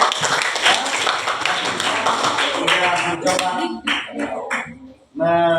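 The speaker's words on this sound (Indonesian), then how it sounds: "Iya, tepuk tangan ya" A group of people in a classroom claps hands together, loud and close at first, thinning into scattered claps before a brief spoken voice cuts in at the end.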